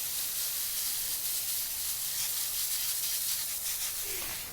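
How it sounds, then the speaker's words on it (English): Soft, breathy hissing of a spray bottle misting Epsom salt spray onto pepper plants in a garden close by, a continuous spray with faint rubbing texture and no talking. "I sprayed all the pepper plants with Epsom salt spray."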